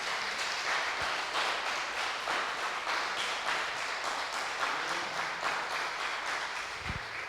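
A church congregation applauds during a Sunday celebration service, a steady wash of many hands clapping at even loudness throughout, with no voices over it.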